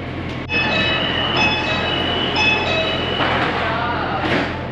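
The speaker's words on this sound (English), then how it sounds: "there's our first Shenzhen Metro train, line 10." A Shenzhen Metro Line 10 train rolls past close by, a steady rumble with high metallic squeals and tones from the wheels and motors, loud throughout.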